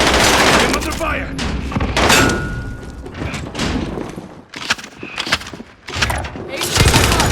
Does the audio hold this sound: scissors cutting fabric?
no